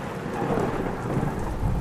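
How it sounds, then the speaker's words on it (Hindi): Steady rain pours with rumbling thunder in a cold March storm, a dense continuous wash of sound with low booming rolls underneath, no voices. "इस मार्च के ठंडी मौसम में बारिश की क्या जरूरत है भला?"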